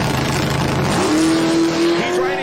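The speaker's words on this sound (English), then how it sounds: "the show quality worthy wheel standing Whipple supercharged Chevy Camaro" A Whipple-supercharged Chevrolet Camaro drag racing down the strip at a Sick Summer event, a loud, close engine roar with a rising whine near the end of the short burst.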